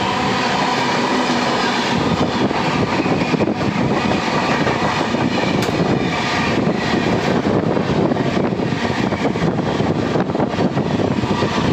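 A special train hauling wagons rolls past at close range, a loud continuous rumble with clattering wheels and rushing air that fills the whole stretch.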